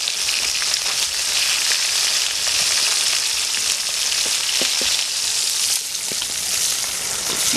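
Fish grilling over an open fire at a rice-field picnic, sizzling and crackling steadily throughout with dense, close hiss and occasional sharp pops.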